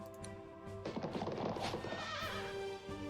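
A horse in the video game The Battle for Wesnoth lets out a whinny over soft game music, a single rising and falling neigh lasting about two seconds.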